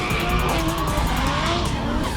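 Big four-door drift cars at a Drift Collective round in South Australia slide around the course, their tires screeching continuously over loud, steady engine roar.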